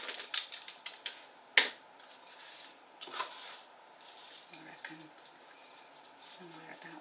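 Scissors cut paper for a handmade gift bag, with a few crisp close snips early on, then quieter, softer paper handling and faint rustles.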